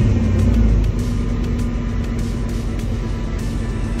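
A Ram 1500 pickup truck engine running after being started, a steady low rumbling idle with a heavier surge at the start, close and continuous, with no talking.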